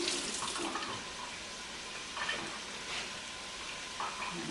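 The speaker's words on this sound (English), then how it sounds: "I'm just going to rinse these hands." Hands rinsed under a running kitchen tap, a soft steady hiss of flowing water with a few splashing surges, close and quiet, no talk.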